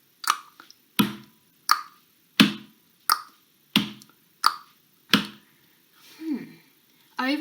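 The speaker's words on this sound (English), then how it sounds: "one of you suggested that you could do a click with your tongue and a stomp" A tongue click and foot stomp for an A-B pattern lesson: about nine crisp, close percussive hits in a steady alternating rhythm, followed by a short vocal sound near the end.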